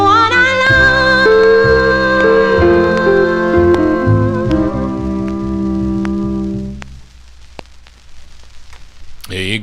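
A 1952 King label 78 rpm shellac record of a rhythm and blues song plays with sung vocals and band, then fades out, leaving the surface hiss and crackle of the spinning disc.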